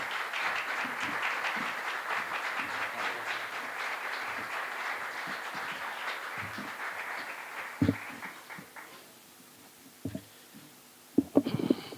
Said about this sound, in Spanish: Con un fuerte aplauso recibimos al señor Ángel Fernández.